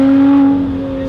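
Lotus Exige Sport 380 under way on track, a loud, close, steady engine hum holding a constant pitch, easing slightly in volume after the first half second.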